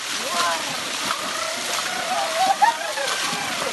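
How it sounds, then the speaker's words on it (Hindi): Water is thrown out by hand during fishing in a shallow stream, making intermittent splashes and sloshes over steady flowing water, with voices talking nearby. "र यति बेला माछा मार्ने क्रममा पानी फाल्दैछौँ।"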